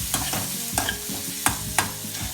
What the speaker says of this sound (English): Now add the carrots. Again nicely saute.